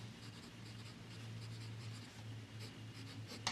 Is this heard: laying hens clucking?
no